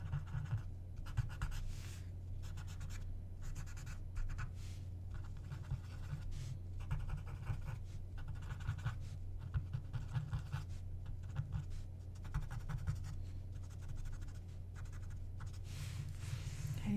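Graphite pencil lightly shading leaves on paper, a soft continuous scratching in steady back-and-forth strokes with short pauses, close and quiet over a low background hum.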